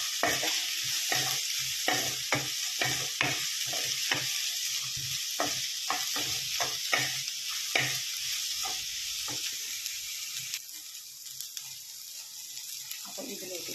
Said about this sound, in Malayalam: നമുക്ക് ഇതിനെ ഇളക്കി കൊടുക്കാം.